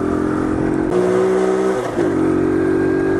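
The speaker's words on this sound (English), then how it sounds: "Climbing these hills on this 70cc is nothing like climbing a hill on a 125" A 70cc Trail 70 CT70-clone motorbike engine labours loudly and steadily as it climbs an off-road hill, its droning pitch dipping briefly as the throttle eases, then picking back up.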